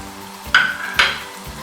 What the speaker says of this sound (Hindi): थोड़ा सा इसको भूनेंगे हल्का सा, ताकि मसाले का फ्लेवर आ जाए